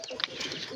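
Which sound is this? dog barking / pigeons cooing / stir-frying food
pigeons cooing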